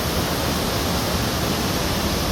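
Broadband roar of rushing water at the Tabuleiro waterfall river, steady, loud and close, filling the whole clip with no break.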